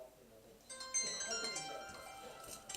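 A phone ringtone breaks in partway through, a steady tonal ring over background noise while people talk.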